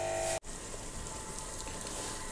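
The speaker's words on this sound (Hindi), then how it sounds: "सूजी को हमने तकरीबन 5 मिनट तक भुना है ऑयल के ऊपर" Semolina (suji) roasting in oil in a pan for halwa, giving a steady soft, hissing crackle that cuts out briefly near the start and then resumes evenly.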